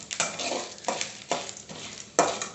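Dried red chillies and dal roasting in a pan, stirred with a few scraping strokes over a dry crackling sizzle, close and fairly loud, with no talking.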